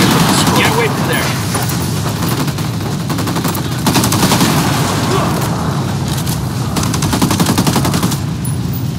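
Sustained automatic gunfire and bursts fill a firefight in Ghost Recon Wildlands, loud and continuous with rattling volleys layered over one another, and voices speak underneath.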